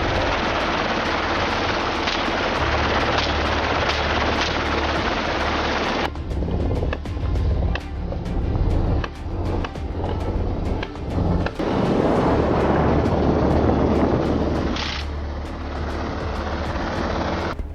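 A helicopter flies slowly over Australian farmland during a wild boar hunt, a steady loud rotor drone throughout, broken by sharp bursts of rapid gunfire in the middle.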